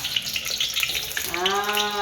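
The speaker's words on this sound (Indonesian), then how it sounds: "ini saya sudah panaskan kita punya minyak, tapi kita goreng risol dulu ya" Risoles fry in heated oil with a steady, close sizzling crackle, joined near the end by a faint wavering tonal whine.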